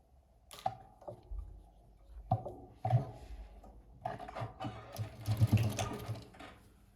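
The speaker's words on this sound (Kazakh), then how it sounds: "Сосын мына жағын мына жағына осыдан тігіс жібереміз" A sewing machine stitches a seam on a fabric cosmetic bag in several short bursts of rapid mechanical clatter, close and alone, separated by brief pauses and handling clicks.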